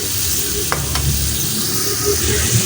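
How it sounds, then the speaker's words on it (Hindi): Chicken kofta stirred and fried in masala in a pan, a loud continuous sizzle close by with a few spoon clinks and scrapes, no talking. "इनको थोड़ी देर के लिए भूनेंगे अच्छे तरीके से, ताकि मसाला और कोफ्ते जो हैं वो अच्छे से यकजा हो जाएं"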